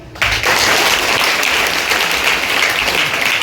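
An audience at a school science quiz breaks into applause that starts abruptly and holds as a steady, fairly loud clapping wash.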